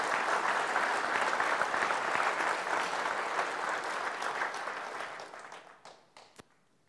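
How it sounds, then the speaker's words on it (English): An audience applauds at the close of a talk on human trust in continuous deployment, a dense burst of clapping that thins out and fades over the last seconds. "Oh, round of applause."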